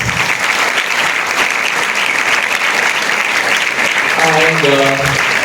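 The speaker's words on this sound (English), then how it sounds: "he deserves a big round of applause, please." A loud, continuous round of applause fills an institute event hall, with a voice briefly sounding over the clapping near the end.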